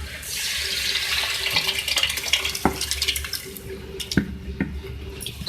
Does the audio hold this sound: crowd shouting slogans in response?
no